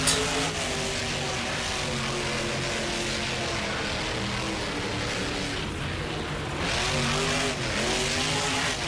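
A monster truck engine in the BeamNG Drive video game on a Monster Jam-style course revs loudly and continuously, its pitch rising and falling with repeated surges of acceleration and occasional tire squeal, with no voices.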